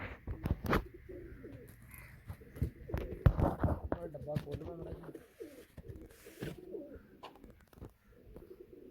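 Soft cooing of hungry pigeons being fed grain rises in low, throaty bursts among rustling and clattering nearby, while someone speaks briefly over it.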